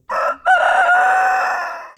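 A rooster in the Bresse countryside around Louhans crows loudly and close: a short opening note, then one long drawn-out call that tapers away.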